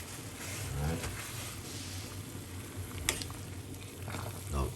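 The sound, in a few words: thyme tea water starting to boil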